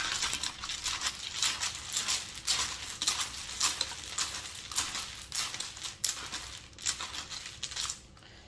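Letter tiles for a tarot letter casting are shuffled and rattled together, giving a steady run of clicking, clattering bursts close by with brief pauses and no speech.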